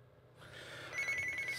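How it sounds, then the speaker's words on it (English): A phone rings quietly, a faint electronic trill rising after a soft start and repeating in short pulses. "my phone's ringing"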